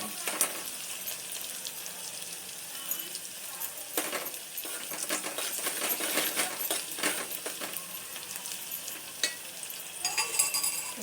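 Peeled garlic frying in a pan, a continuous bright sizzle and crackle with intermittent stirring scrapes and clinks, fairly loud and steady throughout.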